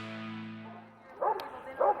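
Dogs at a dog long jump event at the GoPro Mountain Games in Vail, a couple of short yips and barks in the second half, following a fading musical tone.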